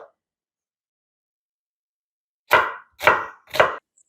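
Three quick, crisp knife chops through an onion on a cutting board after a long silence, evenly spaced and close by.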